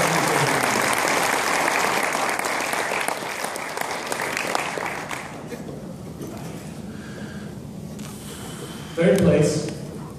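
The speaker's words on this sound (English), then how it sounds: "Give him a round of applause." An awards ceremony crowd gives a round of applause, a loud sustained clapping that gradually thins and fades, followed by a short burst of a voice near the end.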